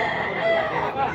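A Black Hennie rooster in Tabunok, Cebu, crows once, loud and close, in a brief sustained call with clucking fowl around it.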